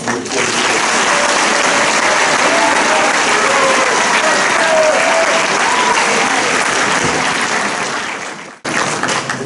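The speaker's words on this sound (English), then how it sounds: "let's give a round of applause for Mrs. MC, Mr. Thibodeau." Sustained audience applause fills a hall at a senior oratorical contest, loud and steady for about eight seconds before briefly cutting out and resuming.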